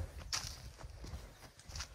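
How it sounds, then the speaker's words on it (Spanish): A horse on a visit at a ranch in Sonora walks with quiet hoof clip-clops heard close by, a few uneven steps over a low ambient background. "un caballo de visita"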